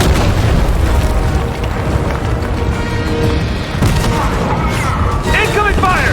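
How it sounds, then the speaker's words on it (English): Heavy booming explosions and incoming fire from a Fortnite live event fill the mix loudly and continuously, with game character voices talking over the barrage. "Incoming fire!"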